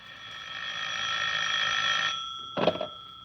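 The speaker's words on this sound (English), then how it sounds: "As I came up the stairs, I heard my phone ringing." A telephone rings inside a building: a steady electric bell trill for about two seconds, then a short second burst, fairly clear and alone with no voices.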